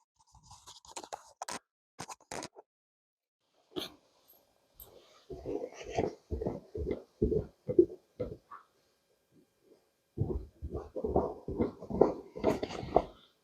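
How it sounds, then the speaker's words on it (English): Several footfalls on repaired wooden stairs in two bursts, steady thumping steps with light creaks, fairly close, with quiet pauses between. "I'm going to walk on different parts of these stairs"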